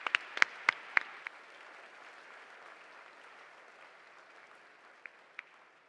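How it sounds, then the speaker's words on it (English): Audience applauds a reverend during a Christian emphasis week gathering, a few sharp individual claps up front over a sustained, fairly faint round of clapping that fades, with a couple of late claps. "Let's give a round of applause for Rev."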